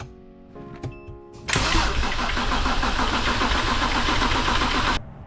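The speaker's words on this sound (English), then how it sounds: "attempt to start the car, letting the starter and the motor turn over so we can prime the turbos with oil" A BMW 335xi with an N54 engine cranking on its starter with the injectors unplugged, turning over steadily for several seconds without firing, loud and close, after a few brief clicks.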